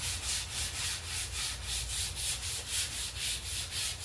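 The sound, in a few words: sanding a red maple guitar neck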